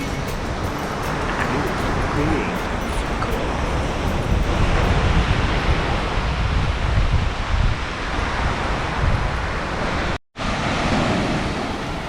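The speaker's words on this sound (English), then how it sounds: "The waves seem way mightier." Ocean surf roars steadily as waves break on the shore in southern Lombok, Indonesia, mixed with wind buffeting the microphone and a brief dropout near the end.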